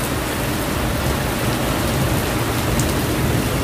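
Heavy rain pours down steadily, a dense, continuous hiss of drops striking surfaces close by, with no voices and no letup across the whole stretch.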